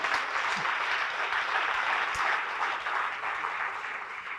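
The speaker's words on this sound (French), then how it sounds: "l'applaudir une nouvelle fois Dimitri Perrenou, mesdames et messieurs" Applause fills a hall at a business awards ceremony in Corrèze as an audience claps for a winner, a sustained even wash of many hands that holds steady before easing slightly toward the end.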